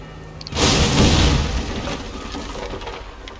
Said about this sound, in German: Es gibt, glaube ich, eine größere Explosion, wo noch Explosionsfässer daneben waren.